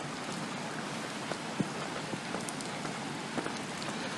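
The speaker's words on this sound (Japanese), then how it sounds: "雨やば。" Heavy rain falls steadily at night as a dense, continuous hiss with occasional louder drops striking a surface nearby.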